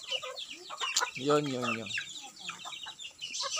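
Pet chickens cluck close by in short bursts, one louder drawn-out call standing out, while a person briefly speaks.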